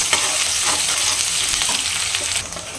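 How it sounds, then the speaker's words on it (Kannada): Onions and curry leaves fry in a hot pan with a steady, close sizzle and occasional stirring scrapes, no voices over it. "ಈರುಳ್ಳಿ ಹಾಗೆ ಜೊತೆಗೆ ಕರ್ಬೇವಿನ ಸೊಪ್ಪು ಇದು ಚೆನ್ನಾಗಿ ಬಾಡಿಸ್ಕೊಳ್ಳೋಣ"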